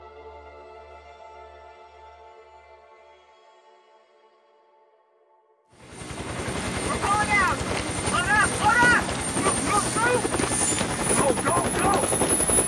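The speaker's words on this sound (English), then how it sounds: "That plane does a lot of noise." A plane in the game Days Gone roars in after a quiet stretch with a faint tone, a loud, close, steady rotor-like drone and rush that holds to the end, with brief voice-like chirps over it.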